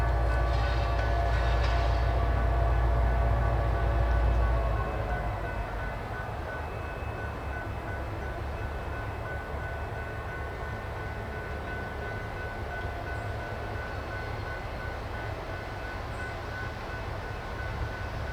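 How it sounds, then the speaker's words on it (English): The NX-10 freight locomotive backs down onto a siding to couple onto three loaded cars, its engine droning low and steady, louder in the first few seconds and then settling into a continuous rumble. "the NX-10 backs down onto the siding to tie on to the 3 loads"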